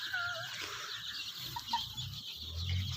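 Young chickens, one to two months old, on a poultry farm, their soft clucks and peeps forming a steady background with a few brief calls standing out.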